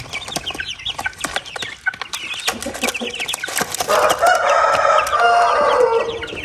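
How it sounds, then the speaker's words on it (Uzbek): A Japanese-breed rooster clucks in scattered bursts, then lets out a loud, drawn-out crow close by. "Bu xo'roz ekanda baribir"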